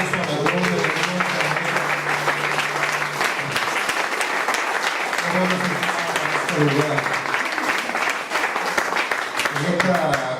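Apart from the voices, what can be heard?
applause in church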